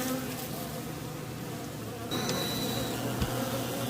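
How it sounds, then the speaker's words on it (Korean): Honeybees clustered on a beehive frame set on a hive stand buzz in a dense, continuous drone, close and steady throughout. "꿀벌들이 따닥따닥 붙어 있습니다."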